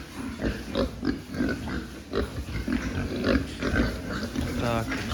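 Weaned pigs, about 60 kg, grunt and snort in short bursts throughout, close and busy, with a person talking over them at times.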